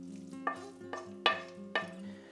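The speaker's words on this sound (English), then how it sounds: "I'll mix everything together" Spoon mixing broccoli, sausage and cheese in a bowl, giving four soft scraping strokes at an even pace, close and quiet, with no talking.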